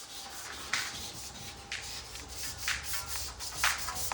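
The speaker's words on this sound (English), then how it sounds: "So now you have a nice tight fit as you're sanding along." Repeated rhythmic strokes of a sanding block on a car panel, a dry rasping scrape back and forth every second or so, close and fairly quiet.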